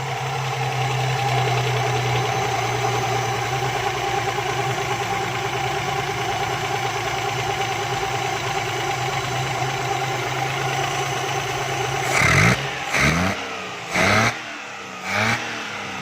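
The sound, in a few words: car engine idling and revs being adjusted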